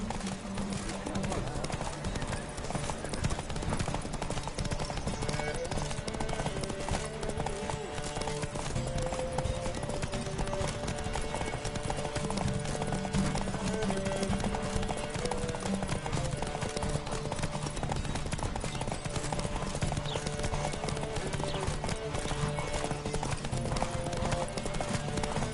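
Galloping horse hooves in The Witcher 3 during a horse race, a steady clip-clop rhythm running throughout under game music, shouting and voices.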